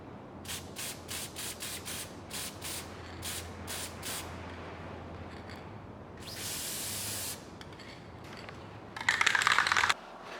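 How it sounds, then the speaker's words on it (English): Short bursts of spray from an aerosol can applying clear coat to painted fishing jig heads, a rapid series of hissing puffs followed by a longer spray and a final loud burst, fairly close. "we're gonna give it a good old clear coat to make them look a little bit more shiny"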